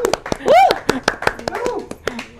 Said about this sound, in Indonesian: juga tepuk tangan dong untuk Bu Asih dong.